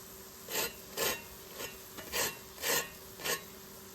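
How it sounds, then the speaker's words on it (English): Extra-crispy, fully cooked potato pancakes are handled up close, giving six distinct crunchy rasping scrapes in an uneven rhythm against a quiet background. "So these are the potato pancakes, fully cooked, extra crispy."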